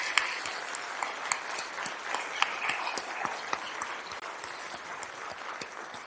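An audience applauds graduates at a PhD commencement ceremony, a fairly faint, sustained patter of many hands with a few sharper individual claps standing out near the front.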